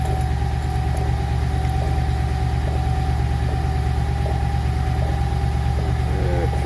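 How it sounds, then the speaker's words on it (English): An old car engine idles steadily with a low, constant rumble during a transmission fluid change, close and loud throughout, with no other sounds rising above it. "I just realized the engine's running and this old girl's kind of loud"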